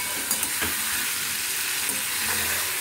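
Potatoes stirred with turmeric and salt in hot white oil give a constant sizzling hiss, with a few soft scrapes of the spoon against the pan and no talk.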